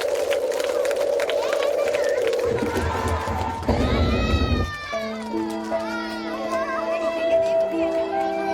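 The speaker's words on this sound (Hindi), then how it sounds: "जोरदार तालियों से बच्चों को एनकरेज करें" A school annual day audience in Kittur cheers for a children's stage performance, with a loud burst of crowd noise midway between stretches of music and a voice.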